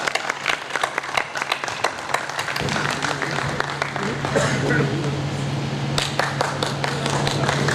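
Applause from a crowd at a yarn dyeing company party, scattered claps building into a fuller ovation for a guest being welcomed on stage, with a voice talking over it.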